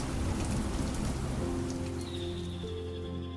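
Steady heavy rain falls across the Pantanal wetlands, a dense, close hiss of drops on surfaces, with a faint tonal sound rising briefly near the end.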